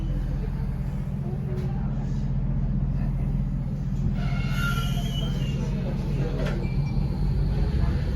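A train on the North London Line route toward Royal Victoria rumbles steadily with a constant low roar, carriage noise and brief high squeals, heard from on board at close range.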